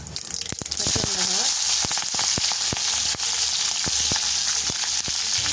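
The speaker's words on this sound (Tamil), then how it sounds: "அங்கால இப்ப எண்ணெய் சூடாயிட்டு கடுகு சேர்ப்போம்." Mustard seeds hit hot oil in a pan while fish puttu is cooked in a Jaffna kitchen, giving a loud steady sizzle peppered with sharp pops and crackles, with a brief voice at the start.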